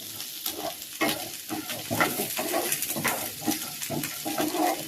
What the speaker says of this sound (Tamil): இதெல்லாம் நல்லா சேர்த்து வதக்கிடலாம்.